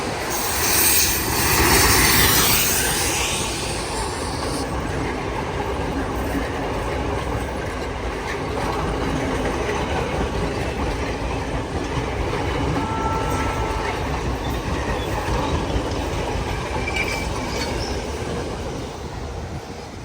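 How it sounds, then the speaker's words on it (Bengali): A local train in Sri Lanka passes close by, a loud steady roar of rolling wheels and rattling carriages with clickety-clack and brief squeals, sustained for the full span with no talk. "এই যে ট্রেন চলে আসলো"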